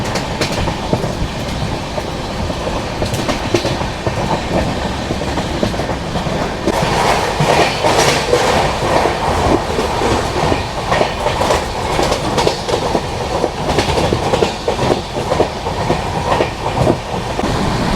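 A Mumbai–Indore Duronto Express runs at speed at night, its loud, steady rumble overlaid with rhythmic clickety-clack of wheels on rail joints throughout, growing denser partway through.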